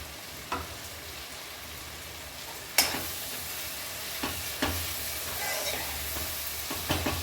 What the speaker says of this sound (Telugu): ఇదంతా ఇట్లా కలిసేలాగా మంచిగా కలిపేసుకోవాలి